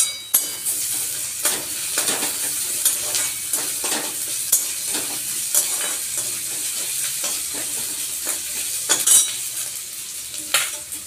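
Ginger paste sizzling loudly in hot oil for an egg yolk curry, with a steady fry hiss broken by repeated spatula scrapes and stirs against the pan, close up.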